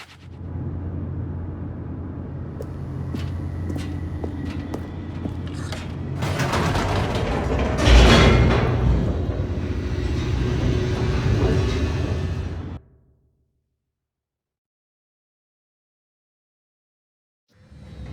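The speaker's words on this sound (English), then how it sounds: "The elevator raced downward" A rapidly descending elevator in The Stanley Parable rumbles and rattles with mechanical creaks, building to a heavy boom and roar before cutting off abruptly into silence, then a faint return at the end.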